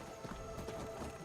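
Horses moving in the Skyrim video game, with steady clip-clop hoofbeats running continuously through a short, fairly quiet stretch over a dense background bed.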